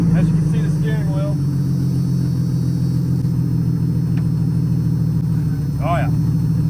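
A Jeep fitted with wooden saw-blade wheels runs with its engine idling, a steady close low rumble that continues throughout while a person talks over it.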